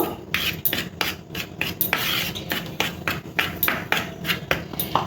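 Flour seasoned with ground black pepper and a little salt is stirred in a bowl for crispy chicken, making quick, rhythmic scraping and rubbing strokes close by, with no talking.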